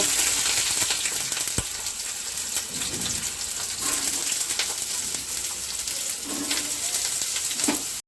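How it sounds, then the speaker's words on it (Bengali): Eggplant fries in hot oil in a pan on a home stove, a continuous close crackling sizzle with faint spatters and occasional soft clinks throughout. "গরম হয়ে গেছে, বেগুনগুলো ভেজে নেব।"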